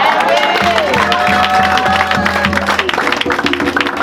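A church congregation at a revival-style worship service acclaims the Lord with loud applause, cheers and shouts, mixed with voices and sustained musical tones throughout.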